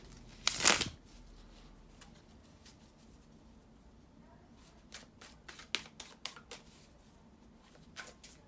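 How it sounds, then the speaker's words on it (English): Tarot cards are riffled and shuffled up close, with a loud burst at first followed by a series of quick, crisp flicks and snaps. "to shuffle the tarot cards"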